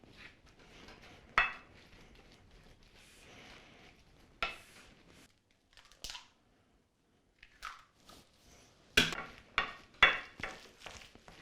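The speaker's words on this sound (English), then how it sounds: "use your wooden spoon just to mash the beans into the carrots and the panko mixture" A wooden spoon mashing white beans into grated carrots and a panko mixture, sharp knocks and scrapes against the bowl broken up by quiet pauses, close by, with a cluster of firmer taps near the end.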